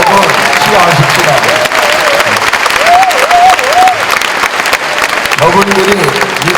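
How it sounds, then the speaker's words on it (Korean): Loud sustained applause from a church congregation at an evening service, many hands clapping steadily throughout while a voice and tonal sounds carry above the clapping. "박수로 여러분 수고하십시다."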